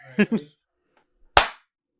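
A film slate clapper snaps shut once, a single sharp crack standing alone after a short burst of speech and a moment of silence.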